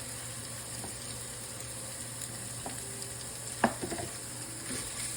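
Shrimp and lobster sizzle steadily in a pan with garlic and shallots, a constant frying hiss marked by a few small pops and a brief louder clatter.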